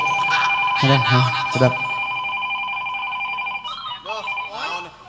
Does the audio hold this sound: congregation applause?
no